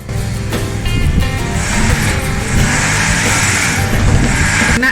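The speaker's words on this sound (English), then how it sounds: "we really need to rev the engine to move it backwards." A motorhome's engine revs hard while reversing with its brakes stuck on, a loud, sustained drone that rises and holds nearby for several seconds without talk.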